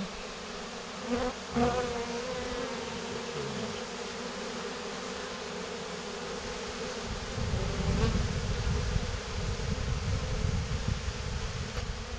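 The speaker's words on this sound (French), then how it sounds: "il a encore une abeille qui lui court après" Honeybees buzz around a Layens hive, a steady dense insect drone with bees passing close by, swelling louder in the second half, with no talk.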